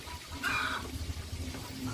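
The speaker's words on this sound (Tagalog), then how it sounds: "lagyan natin ng konting tubig" A little water poured into a cooking pot of softening meat for an Ilocano-style bulanglang, a brief splashing gush rising over a steady low background.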